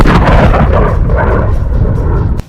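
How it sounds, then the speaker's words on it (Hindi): An Iranian Khorramshahr-4 missile launches with a heavy, continuous roar. The rumble stays loud and dense throughout, then cuts off abruptly near the end. "ये लॉन्च हुई ईरान की सबसे खतरनाक मिसाइल खुर्रम शहर 4"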